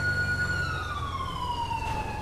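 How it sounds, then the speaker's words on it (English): Police escort siren in the video game GTA 5: a loud, nearby wailing tone sweeps steadily downward over a low rumbling engine, with no talk. "We have a guy blazing the freaking siren back there."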